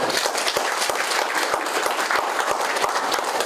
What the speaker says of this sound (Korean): 오늘 이 자리에 참석해 주신 모든 분들께 박수 부탁드리겠습니다